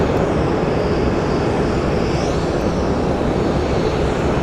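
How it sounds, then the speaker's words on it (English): Airplanes pushing back at Phoenix Sky Harbor airport, heard as a loud, steady roar of jet engines and broad rushing noise that fills the whole stretch without a break. "Got a whole lot of planes pushing out."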